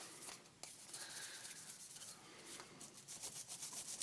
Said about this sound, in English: Give it a scrub here real quick here.